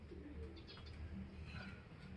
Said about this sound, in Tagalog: parating na yung mga ibon natin